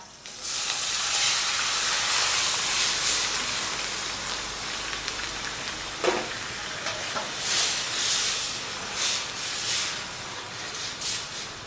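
Boiled lentils tipped into fried raw mango in a pan give a broad, rain-like sizzle that stays loud throughout, with a clunk partway through and pulses of hissing steam after.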